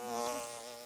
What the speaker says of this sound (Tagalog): Naririnig ko yung mga bubuyog.